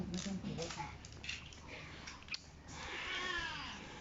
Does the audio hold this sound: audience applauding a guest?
no